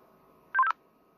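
A Motorola XPR6550 two-way radio emits a short burst of warbling MDC ID key-up data tone, under half a second long and heard alone against faint background hiss.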